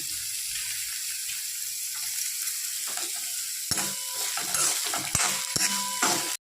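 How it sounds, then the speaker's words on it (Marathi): Onion goes into oil with already-sautéed garlic, a close sizzle and crackle with a spoon scraping and stirring in uneven bursts, louder in the second half before stopping abruptly. "लसूण चांगले परतलेले आहे तर कांदा टाकून कांदा चांगला परतून घ्यायचा"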